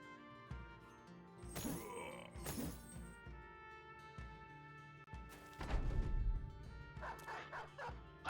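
Dog barking and yipping in the video game Battle Brothers, several sharp barks and whimpers over game music and combat sounds.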